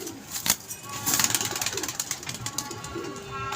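A pigeon held in the hand at a pigeon club coos softly and flutters its wings in brief bursts, heard close by and fairly faint.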